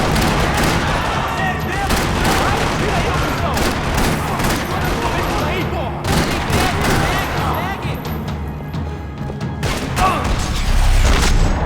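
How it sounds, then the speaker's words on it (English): Dense, loud gunfire in a parking lot in the video game Max Payne 3 rattles almost nonstop, rapid bursts and shots overlapping with mechanical clatter and occasional heavier booms. "Another parking lot rattling with gunfire"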